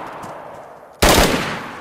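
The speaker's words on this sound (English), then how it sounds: "He's shooting at me." Gunfire from the survival shooter DayZ during a player-versus-player match: after a second of quiet background, a loud sudden burst of rapid shots erupts close by and keeps ringing through to the end.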